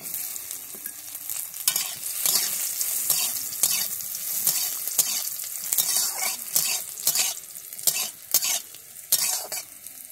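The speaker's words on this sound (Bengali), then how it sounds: "আমি কাজু আর কিশমিশটা ভেজে নেব।" Cashews and raisins fry in ghee in a wok, a steady close sizzle broken by repeated scraping stirs of a spatula.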